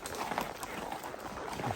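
Horse hooves clop along a river trail during a trail ride, soft and somewhat distant, mixed with outdoor ambience and faint background voices.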